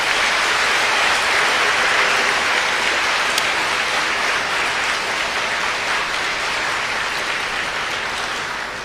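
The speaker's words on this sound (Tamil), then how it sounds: "நீங்கள் எல்லோரும் ஒரு பெரிய கைத்தட்டல் கொடுங்களேன், அப்படி இந்த அரங்கமே அதிரணும்." A large audience in an auditorium claps loudly, a dense, sustained roar of applause that holds steady and fades slightly toward the end.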